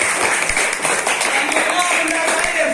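A class of primary school children clapping for a classmate, a quick scattered patter of hands mixed with chatter and a teacher's voice.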